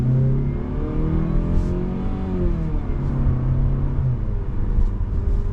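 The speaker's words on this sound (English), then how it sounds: "We'll take off, see how the 6-speed automatic shifts." A 2025 Mazda CX-30 S Preferred with a non-turbo engine and 6-speed automatic pulls away, its engine note climbing, dropping at a gear change, then rising again, loud and close from inside the cabin.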